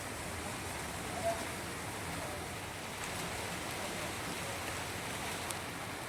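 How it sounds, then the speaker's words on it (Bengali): Heavy rain falling outside in the evening, a dense, even hiss of downpour that holds steady throughout with no voices over it. "বাইরে এখন হচ্ছে প্রচণ্ড জোরে বৃষ্টি"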